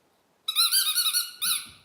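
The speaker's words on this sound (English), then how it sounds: "squeaky toy." A squeaky dog toy shaped like a chipmunk is squeezed in two loud, close, high-pitched squeaks: a long wavering one followed by a shorter one after a brief pause.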